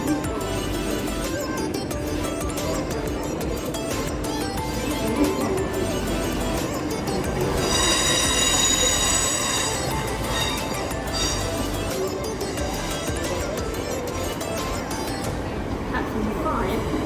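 A Thameslink train sits at a London Bridge station platform at night, giving a constant rumbling drone with a rising electric whine partway through, under a busy background hum.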